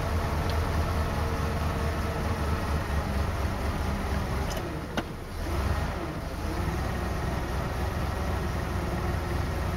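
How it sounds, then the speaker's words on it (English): A 1986 Ford F-250 pickup engine idles steadily after carburetor work, a dense low rumble that holds throughout, with a brief dip and small clank near the middle, no talking. "And also the idling is dropping down."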